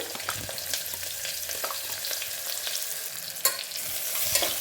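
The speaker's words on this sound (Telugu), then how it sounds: "కొంచెంసేపు ఆనియన్ని బాగా వేగనిద్దాము." Sliced onion frying with whole spices such as cardamom and shahi jeera in a pan for pudina rice: continuous close sizzling with light stirring scrapes and a few sharper crackles, no voices.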